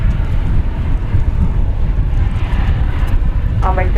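An American Airlines airliner lands at DFW Airport, its steady loud engine roar and wind rush filling the air, with a brief voice near the end.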